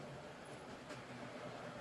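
Model railway trains running along a lit back freight bypass line behind an arched wall, heard as a steady low rolling rumble with faint clatter, continuous and moderately distant, no talking.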